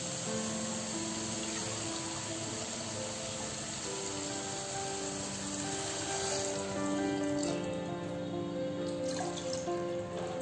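Water poured onto basmati rice in a pressure cooker for vegetable biryani makes a continuous close trickling, splashing stream that swells slightly louder toward the end.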